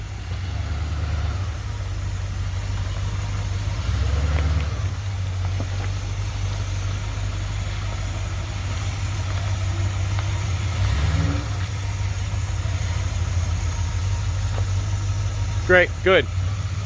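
A 1978 Plymouth Trail Duster engine idles with a steady low drone throughout. It sits close by, and brief spoken remarks and a short higher-pitched sound near the end rise over it.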